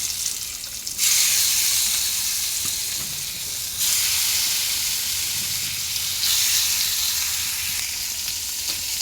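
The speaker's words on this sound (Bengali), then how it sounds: "এই যে আমি মাছ মাখাই রাখছিলাম, মাছ ভাজি খাবো" Marinated fish frying in hot oil in a home kitchen, a loud close crackling sizzle that swells in bursts every few seconds, with no talk over it.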